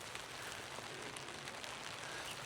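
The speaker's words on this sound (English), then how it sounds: "We might have an evening of the sound of rain hitting the fly sheet." Light rain falling on a tent fly sheet at a riverside campsite, a faint, even patter and hiss that holds steady throughout with no talk over it.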